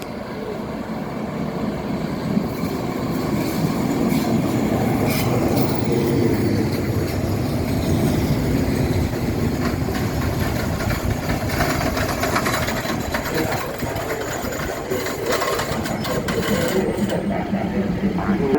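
Thai railway local train 439 and express train 76 at the Pa Sak Jolasid Dam halt, a steady loud rumble of diesel engine and rolling rail cars filling the whole stretch without letup.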